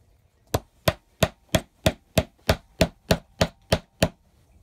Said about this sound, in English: when we hammer, we don't have to hammer very hard